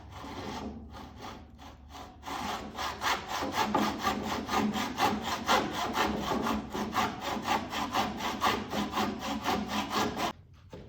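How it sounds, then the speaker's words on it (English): Hacksaw cutting through a wooden boat part with a thin line of epoxy in it, steady rhythmic back-and-forth strokes, close and loud, running continuously for about eight seconds after a few slower starting strokes. "Actually taking a hacksaw to it."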